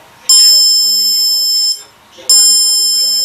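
An electronic distance-sensor buzzer sounds loudly in two long, steady high-pitched tones separated by a short gap, close by and alone.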